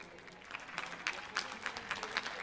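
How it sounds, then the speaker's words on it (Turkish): A studio audience at a televised singing competition claps, a steady wash of applause with crisp individual claps that stays even for the whole stretch, heard at a moderate distance with no talking over it. "kocaman alkışlarınızla huzurlarınızda"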